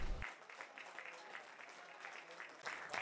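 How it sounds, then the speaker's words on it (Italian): Spectators applaud both teams at the final whistle of the Castelnuovo–Notaresco football derby, which ended in a 2–2 draw: sparse, fairly faint clapping heard from a distance, with scattered individual claps rather than a full roar. "Al triplice fischio finale applausi per entrambe"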